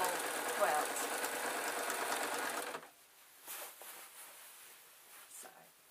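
Domestic sewing machine stitching the backing onto a quilt, running steadily and loud for the first half, then stopping; afterward only faint handling noises and a brief quieter burst of the motor.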